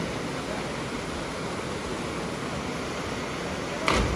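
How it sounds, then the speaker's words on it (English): A waterfall along the Mill Creek trail gives a steady, broad rushing roar, close and constant throughout, with a brief click or bump near the end. "we just went swimming in this waterfall right here"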